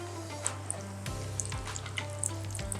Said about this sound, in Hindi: जेके बॉल्स आहिनि उन्हनि खे चारों ई तरफ़ों ज़बरदस्त फ्राई कंदासीं